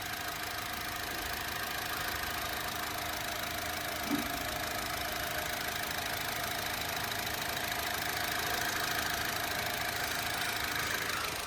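A Honda Amaze petrol engine idles steadily in the open, a smooth, even hum holding at one level with no knocks or misses and no voices over it.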